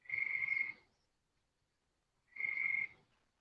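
A loud frog near a garage gives two croaking trills, each almost a second long, separated by a pause of about a second and a half of silence.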